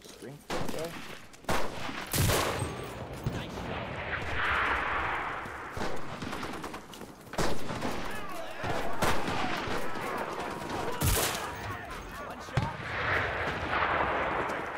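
WW2 gunfire in the shooter Enlisted: repeated sharp rifle and machine-gun cracks and distant explosions scattered across the stretch, some loud and close, others farther off, with a voice talking intermittently underneath.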